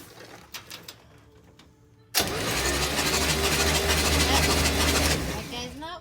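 The engine of a 1965 GMC Handi-bus cranks over and catches, a sudden loud steady rumble after a few quiet seconds with faint birdsong, close by.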